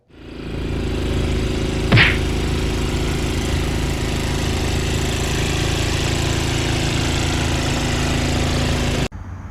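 A Troy-Bilt Storm 2410 two-stage snowblower, which has an engine surging problem, starts and runs, its engine settling into a loud, steady, close running drone before cutting off abruptly near the end.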